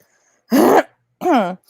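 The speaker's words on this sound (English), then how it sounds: "I'm trying so hard not to cough right now." Two short, forceful throat-clearing coughs close by, separated by a brief pause, with quiet in between.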